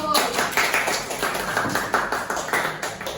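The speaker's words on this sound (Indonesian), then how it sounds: "Kasih aplaus dulu." Students in a high-school classroom clapping together, a quick run of close, uneven hand claps that stays fairly loud across the whole few seconds.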